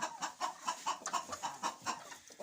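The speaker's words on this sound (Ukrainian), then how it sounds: "розпівалася курочка" A hen in a chicken coop clucks in a quick, regular run of short, close calls with no talking.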